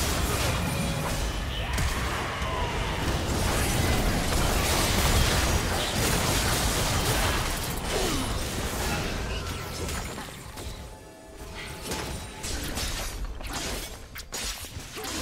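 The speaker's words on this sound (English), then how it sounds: "Red team's turret has been destroyed." Dense, chaotic crashing and shattering from a turret being destroyed in League of Legends, with bursts and whooshes layered over a busy battle mix that runs loud and steady, dipping briefly near the end.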